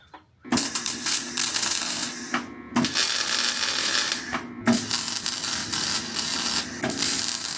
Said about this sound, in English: I'm gonna have to weld a tab in there.